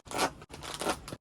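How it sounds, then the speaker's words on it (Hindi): Scissors cut open a henna packet with two quick, close snips of crisp plastic, each lasting about half a second. "चलो सबसे पहले मेहंदी के पैकेट को कट कर लेते हैं।"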